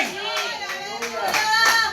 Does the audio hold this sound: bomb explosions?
no